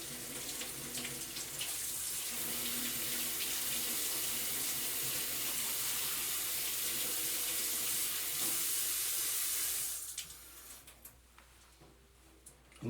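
Steady water from a tap rushes loudly while a Berkey water filter is rinsed off, then the flow drops away near the end, leaving quieter trickling.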